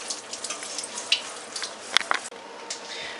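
Soaked shredded potatoes for hash browns are poured into a colander, giving soft, close dripping and trickling water with scattered light splashes and patters.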